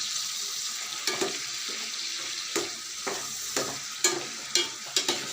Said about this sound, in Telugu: నూనెలోనే రొయ్యలు వేసుకోనండి బాగా వేపుకోవాలండి